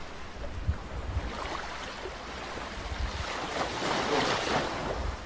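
Ocean waves breaking on a beach, a steady broadband surf roar that swells louder toward the end, mixed with wind buffeting the microphone. No one speaks.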